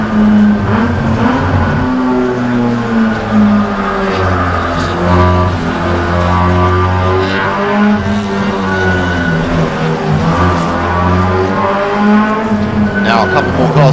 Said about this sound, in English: See all the cars sweeping through turns 1 and 2.